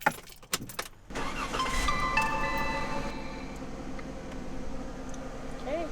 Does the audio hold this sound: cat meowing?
no